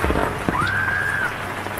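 Heavy rain pours steadily outdoors in the mountain wilderness, a dense continuous hiss with a faint rising tone drifting through the middle.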